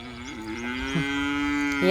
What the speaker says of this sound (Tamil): ரெண்டு மாடு கட்டியாச்சு அது கத்தியே இருக்கிறாங்க